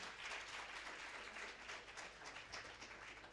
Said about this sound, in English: can we please give him a round of applause as he's going?